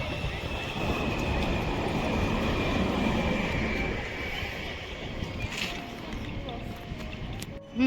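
A tram rumbles past steadily in Freiburg, Germany, with broadband rolling noise, fading toward the end, with a brief squeal near the finish; voices murmur in the background.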